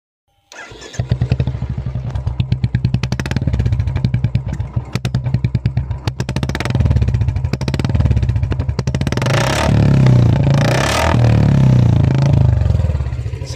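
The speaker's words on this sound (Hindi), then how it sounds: "इसका जो साइलेंसर की आवाज़ रहती है वो कुछ इस प्रकार की रहती है।" A Royal Enfield Classic 350 motorcycle with an aftermarket silencer idles with a deep, rapid thumping exhaust beat, close and steady, with a few light revs and some mechanical clatter.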